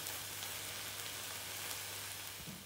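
Mushrooms and bacon sizzling in a frying pan, a faint, steady hissing crackle throughout with a low hum underneath and no talking.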